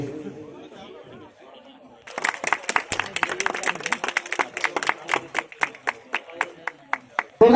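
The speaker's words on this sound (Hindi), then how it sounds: "तालियां।" Audience applause at a ceremony honouring top achievers in Delhi: after a moment of quiet chatter, clapping starts abruptly and continues as sharp, evenly spaced claps, loud and close, with crowd murmur beneath.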